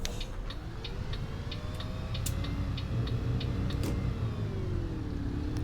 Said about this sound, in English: It's that extra sound that this bus makes to help keep its air pressure up.